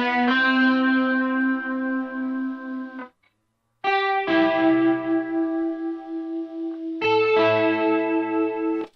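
Sustained electric guitar chords with a shimmering chorus and echoing delay from the Valhalla Supermassive plugin, played in three long phrases separated by a brief pause.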